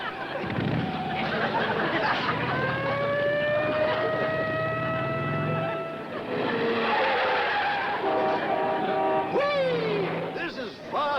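A truck in a vintage TV sitcom scene skids with long, squealing tire whines that rise and fall, while voices and whistling tones run over the top.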